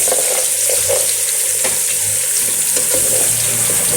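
Carrots stir-frying in a hot pan for Chinese fried rice, a steady loud sizzle with scraping stir strokes running throughout, no voices.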